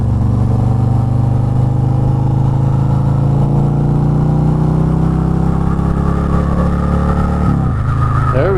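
A 2022 Harley-Davidson Road King 113ci rumbles loudly at close range as it accelerates gently around 35 mph, its deep engine note rising steadily while a rider's voice is heard in the mix.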